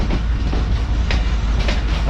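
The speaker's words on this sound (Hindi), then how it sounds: "उसके बाद ट्रेन यहाँ से निकलेगी।" Mohen Jo Daro passenger train rolling on rails in Sindh, a dense, loud, continuous rumble with faint rhythmic wheel clacks, heard up close without talk.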